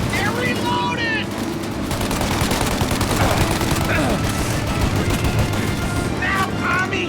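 Sustained gunfire in a shootout in the video game Mafia, rapid bursts and volleys packed densely over continuous game noise, with voices shouting briefly near the start and end.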